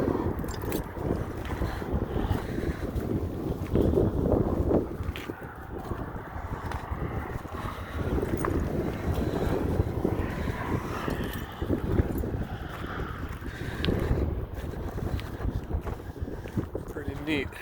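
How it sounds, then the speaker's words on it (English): Wind gusts around a derelict bus on the Great Salt Lake railroad causeway, pushing debris and broken glass about in a low, steady rumble with scattered small rattles and bumps. "it's just the wind blowing stuff around"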